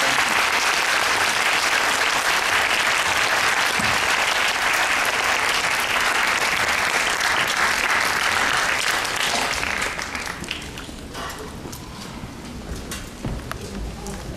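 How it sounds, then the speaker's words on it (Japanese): Sustained audience applause at a Tokyo FILMeX film festival talk show, dense steady clapping from a large crowd that thins out toward the end. "もう一度拍手をお願いします"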